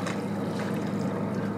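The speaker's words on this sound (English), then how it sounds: "Look at the wave coming off the front of this powerboat." A large powerboat passing at speed, its wake and bow wave rushing and churning close by, heard from a smaller boat as a steady loud wash of water and wind.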